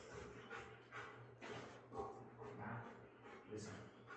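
A pet dog makes soft whimpers and short yips at close range during play with a chewed rope toy, partly under a person's steady talking.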